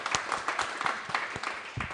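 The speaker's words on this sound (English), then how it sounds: "Tswana, let's give him a huge round of applause as well." Sparse, fairly quiet clapping from a small audience at a human rights dialogue event, with distinct individual claps in an uneven rhythm and no speech over it.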